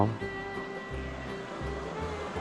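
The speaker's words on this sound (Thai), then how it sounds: "น้ำใสไหลเย็นมากเลยครับ" Clear, cold stream water flows steadily past a campsite bank, a continuous close rushing and burbling with no voices.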